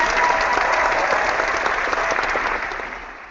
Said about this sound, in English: big round of applause to all our contestants